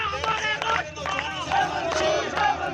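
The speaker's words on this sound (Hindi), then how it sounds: "हाथों में मशाल लिए लोगों ने ऊंची आवाज में नारेबाजी कर चीन को भी कड़े शब्दों में चेतावनी दी" A torch-carrying protest crowd in the streets of Muzaffarabad at night chants slogans against China over dam building on two rivers. Many loud, massed voices rise in repeated rhythmic bursts over a dense, continuous roar.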